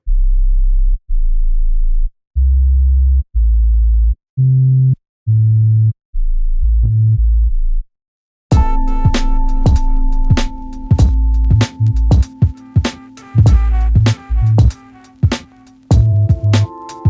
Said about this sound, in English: I've pitched the bass tones that I've made down 3 semitones from C down to A